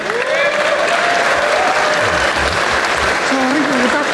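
A crowd at a battle rap event applauds with sustained, dense clapping and some cheering, while a voice talks over it.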